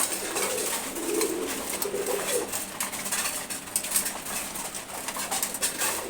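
Two female pigeons coo softly while being fed, a few low, rolling coos close by over a faint background hiss, with no one talking.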